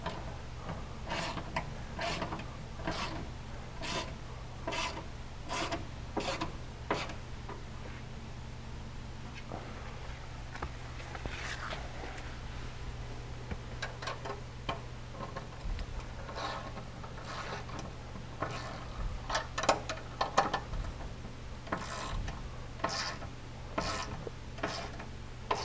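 Wrench working on the bolts of a skid plate being installed on a 2020 Polaris Ranger 1000 UTV, producing a long run of quiet rapid ratchet-like ticks and metallic clicks in uneven bursts over a faint low hum.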